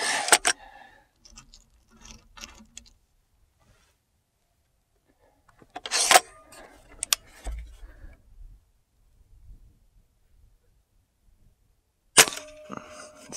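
Air rifle shots from an Umarex Octane Elite and a Gamo Swarm Magnum, heard as a few sharp, loud cracks spaced several seconds apart, with brief quiet gaps and faint clatter between them.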